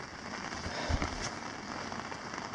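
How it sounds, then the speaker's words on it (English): Heavy rain drums steadily on a tent during a rainy layover on Red Rock Lake in the Boundary Waters in August, a dense continuous patter with a few louder thuds of drops hitting close by. "There's just so much rain"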